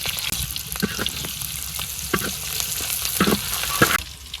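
Steady oil sizzle with frying crackle throughout as vegetables fry with green chilli, chopped garlic and onion in a wok, punctuated by several sharper clatters of stirring; no voices.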